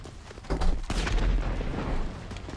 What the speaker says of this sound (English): I think the secondary explosion was the bike or something.